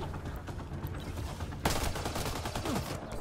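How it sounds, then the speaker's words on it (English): Distant enemy gunfire in Mass Effect Andromeda at a poachers' camp, steady crackling shots that grow sharper and denser midway, with faint voices underneath. "Yes, they're already shooting at us."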